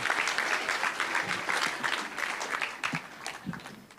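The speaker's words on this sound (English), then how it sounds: "a big round of applause for the giant slide" A crowd applauds at an outdoor state fair news conference, a thick burst of clapping that stays strong at first, then thins and fades toward the end.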